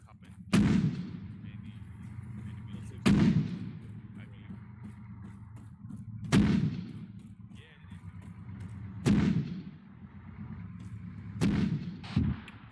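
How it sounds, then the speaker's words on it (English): Artillery rounds from an ArmA 3 fire mission fired for area denial boom about five times at irregular intervals of a few seconds, each blast sharp and loud, decaying into a rumbling low background. "Friendly fire mission going out to our west for area denial"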